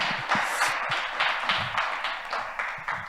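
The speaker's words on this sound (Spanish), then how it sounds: "Un aplauso para él, si quieren darle el aplauso" Audience at a business panel gives applause, a moderate crowd of clapping hands sustained at an even level with sharp individual claps standing out close by.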